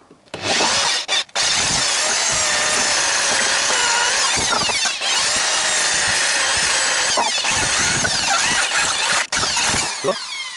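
A power drill with a 7 mm bit grinds steadily into a VAZ crankshaft gear, a harsh continuous whine with a few brief pauses and restarts, close and loud.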